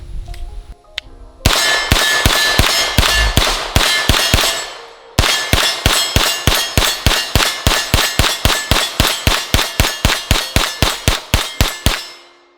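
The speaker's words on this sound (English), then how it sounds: "This is a direct blowback with a hydraulic system, so theoretically this is going to be shooting softer." Rapid strings of sharp, ringing shots from an AR-9 direct blowback pistol-caliber carbine with a hydraulic buffer and brace, loud and close, in two long volleys with a brief pause between.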